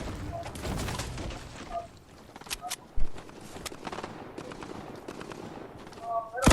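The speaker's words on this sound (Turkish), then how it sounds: "Rastgele salladım roket." Gunfire and a rocket launcher blast in a shooter video game, with sharp broadband shots and bursts scattered through the clip and a heavy thump near the middle, under players talking.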